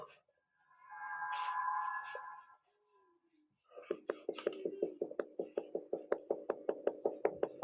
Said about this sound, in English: the sound of knocking can be heard echoing off the cupboard door